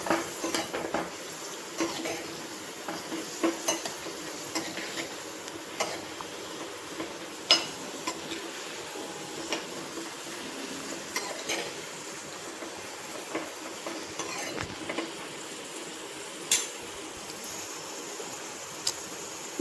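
Ingredients for semiya payasam fry in a pan while being stirred, a steady soft sizzle under frequent light clicks and scrapes of a spoon against the pan.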